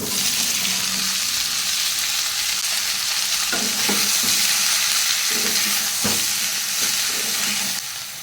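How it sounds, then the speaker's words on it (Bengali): Ivy gourd and potato pieces fry in hot oil with bay leaf, dried red chilli and nigella seeds. A loud, steady sizzle runs throughout, with scattered clinks and scrapes of stirring. "তেলটা গরম হয়ে গেছে, তেজপাতা, শুকনো লঙ্কা, কালো জিরে, এখানে কুঁদরি আর আলু কেটেছে দিয়ে দিলাম"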